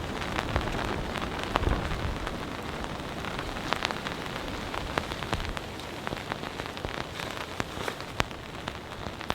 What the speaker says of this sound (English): It's a combination of wind and heavy rain.